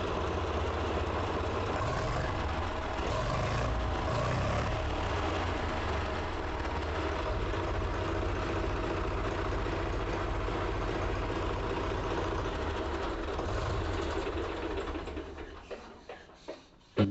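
A 2006 Mahindra 265 tractor engine runs at a steady, loud idle with a continuous low rumble, then the sound falls away and cuts off near the end.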